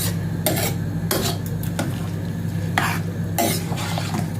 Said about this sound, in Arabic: اقلب بقى واشوف